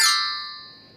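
Notification bell chime, a single bright metallic ding that rings out alone and decays smoothly over about a second.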